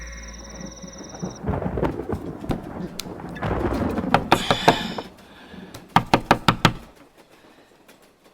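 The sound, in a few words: someone knocking on a door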